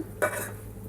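A spoon stirs coriander powder and spices into an okra and tomato curry in a pan, giving a short scraping swish over a soft background hum.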